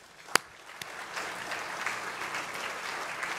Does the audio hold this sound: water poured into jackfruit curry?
no